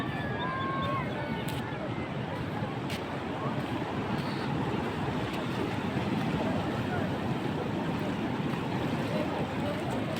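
Strong seawater current and surf at Cox's Bazar beach rush in as a steady, loud broadband roar with wind buffeting the microphone throughout.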